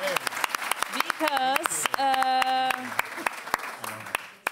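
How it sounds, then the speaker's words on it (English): Warm applause from an audience at a photography talk, clapping throughout with people talking and exclaiming over it nearby. "can I already have a warm applause"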